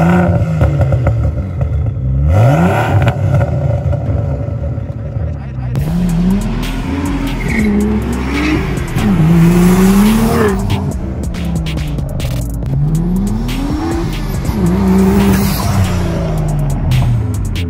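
A boosted BMW 135i with a turbocharged engine accelerates hard, its revs sweeping up repeatedly through the gears in a loud, sustained run, with some tire noise mixed in.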